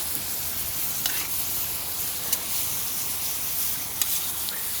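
Onions and tomatoes sizzle steadily in an oil-filled kazan while being stirred for the Crimean Tatar dish kagyrdak, with occasional light scraping clicks over a continuous close frying hiss.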